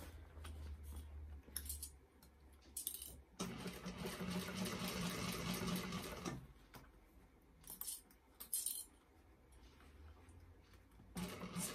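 A sewing machine stitches a vinyl and foam bag, its steady mechanical whirring running for a few seconds in the middle, framed by quieter clicks, clinks and handling noises from the fabric and tools.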